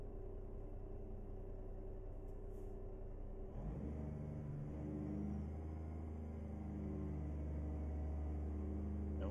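A Peterbilt 388 wrecker tow truck drives at low speed, its engine rumbling steadily with a deepening, strengthening drone partway through as it pulls wide, heard from inside the cab.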